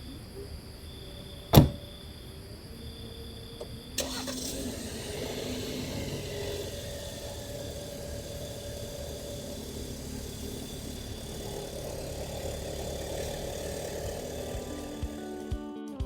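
A Jeep engine starts with a sharp burst and then idles steadily at close range while the vehicle is shifted at a beach campsite, with a low continuous rumble and occasional clicks and knocks, no voices.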